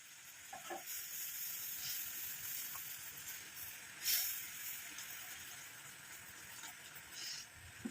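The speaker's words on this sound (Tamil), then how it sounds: "நல்லா கொதிச்சு வருது" Steady low bubbling and hiss of water with coffee powder simmering in an iron pan, fairly quiet, with a brief louder surge of steam midway.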